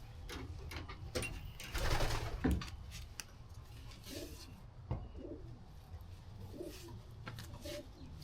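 Pigeons coo softly nearby in a quiet setting, with low murmuring calls, occasional wing flutters and light rustling.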